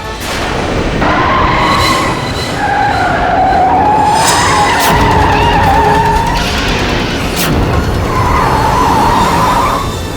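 A car skids with long squealing tyre tones as it is brought to a stop. The sound is loud and sustained over a rumbling, boomy background, with no one talking.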